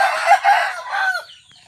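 A rooster crows loudly and close by, with a harsh, drawn-out call that tails off into softer clucking from chickens.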